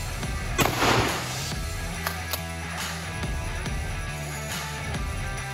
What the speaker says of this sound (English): we're testing against the 12-gauge shotgun high-velocity steel buckshot